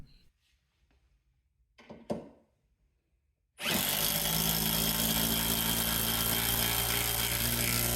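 A Metabo impact driver drives a bolt into a hard board in a workshop, starting abruptly after a few quiet seconds with faint handling noise, then a loud, steady, rapid hammering whine that continues to the end.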